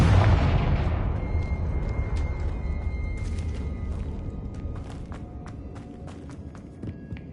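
A Confringo blasting spell explodes in Hogwarts Legacy, a loud booming blast at the start that rumbles and fades, followed by scattered small clicks and effects.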